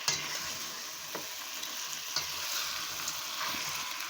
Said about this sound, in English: I'm just going to turn the fire up a little bit and just give it a stir